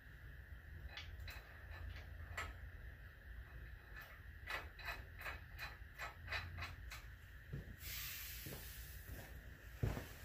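Bolts being tightened on an F350 4x4 truck, a quiet series of rapid ratcheting clicks in bursts over a faint steady hiss, followed by a short rush of noise and a final knock.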